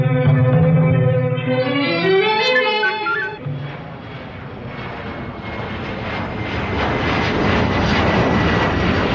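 A fixed-wing airplane's engine roars steadily and loudly in a radio drama's flight sound effect, its pitch shifting early on before settling into a constant, dense drone that fills the whole passage.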